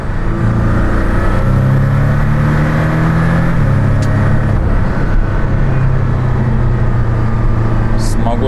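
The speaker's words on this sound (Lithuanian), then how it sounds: "tikiuosi girdit, kaip pasikeitė automobilio darbas" A Porsche Cayman GTS drones loudly and steadily from the cabin while driving on the street, its engine pitch shifting as revs rise and settle. A voice talks under the constant engine noise.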